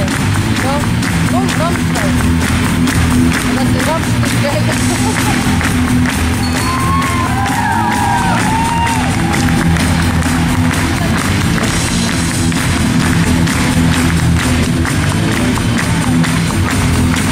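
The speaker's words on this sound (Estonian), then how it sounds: "Plaksutanud kätest." Steady applause from a crowd at an outdoor show jumping competition, a dense patter of clapping lasting throughout, with crowd murmur and a public address voice in the background.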